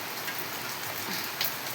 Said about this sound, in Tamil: எங்கள் ஊரில் இப்படி தான் மழை செம்ம பிடிச்சிருக்கு